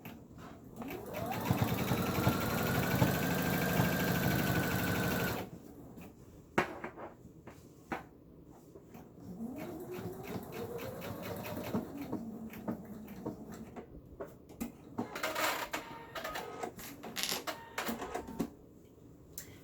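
A sewing machine stitches a hood onto a bath towel, its motor running steadily in a close, continuous burst for the first few seconds, followed by quieter handling noises and light mechanical clicks.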